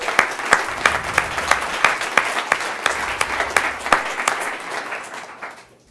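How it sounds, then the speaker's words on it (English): An audience at a startup presentation event in Kansas City applauds with dense, steady clapping that holds for several seconds before fading away at the end. "We'll give you guys a round of applause."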